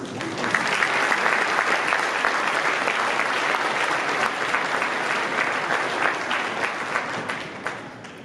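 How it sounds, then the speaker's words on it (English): Conference audience at an IAHR event gives a sustained round of applause, dense and even for several seconds before gradually thinning out toward the end. "let's give Dr. Escobar another round of applause"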